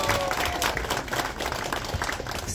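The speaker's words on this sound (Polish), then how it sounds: "Wielkie brawa!" Audience at a family jubilee celebration applauds a band and its accordionist-vocalist after an introduction, a steady dense clapping continuing throughout at close range.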